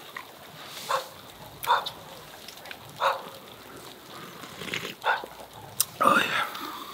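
Out in the snowy winter woods at Kopparnäs, a dog being walked nearby barks several times at irregular intervals. The short, moderately loud barks come over a steady hiss of snowfall and wind, and low voices are heard at times.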